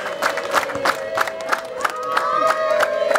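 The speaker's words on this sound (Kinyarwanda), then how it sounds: "izi mpundu n'amashyi biguhawe" A crowd at a Rwandan wedding ceremony ululates and claps nearby: sharp, irregular handclaps punctuate a sustained, trilling chorus of high voices that swells slightly toward the end.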